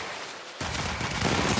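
Sustained rapid gunfire from a weapon in the mobile shooter game Apex Legends Mobile, starting abruptly after a quiet moment and continuing loud and dense without letup.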